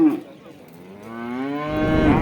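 A cow gives one long, low moo close by at a cattle market, rising and swelling toward the end, with faint murmur behind it.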